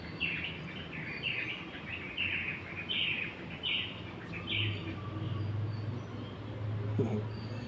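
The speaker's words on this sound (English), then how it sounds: "The birds sound cool." A bird sings a repeated series of short, bright chirping phrases at a steady pace over a low outdoor background hum.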